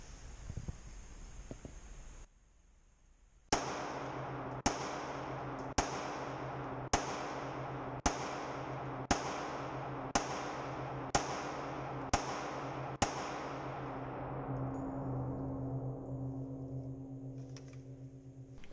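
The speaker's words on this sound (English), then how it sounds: "Let's do the same thing now with our CZ 75. Same thing, first shot will be double action." A CZ 75 SDP custom compact pistol fires ten evenly spaced, sharp, loud shots on a range, the first in double action, each with a quick decaying ring over a steady noisy background.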